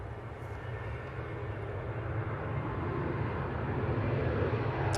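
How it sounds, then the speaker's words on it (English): A Lufthansa airliner arriving from Frankfurt at Manchester Airport makes a faint, broad jet rumble that slowly swells louder across the stretch, heard from a distance with no talking. "The Lufthansa just came in from Frankfurt."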